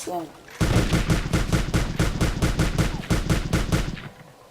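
Rapid automatic gunfire from the video game Warface rattles in one sustained burst of evenly spaced loud shots, close and dominant, lasting about three and a half seconds.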